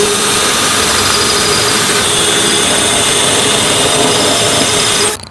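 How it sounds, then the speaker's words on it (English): A loud, continuous drill roar runs steadily for about five seconds while boring holes in masonry, harsh and close, then cuts off abruptly at the end. "then I'm gonna drill"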